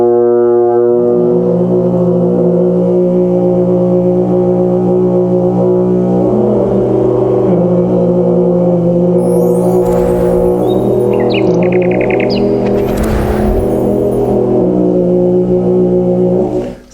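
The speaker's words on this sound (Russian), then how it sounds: "Получается, одну ноту играть, вторую петь и третий Обертон." French horn played while the player sings a second note, producing an overtone chord: a loud, sustained, buzzy low tone with shifting harmonics, holding steadily for about seventeen seconds with breathy bursts midway, no speech.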